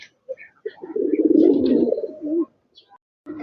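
Kaldum bloodline racing pigeons cooing close by, one throaty rolling coo lasting about a second and a half with softer short coos before and after, alone in a quiet room.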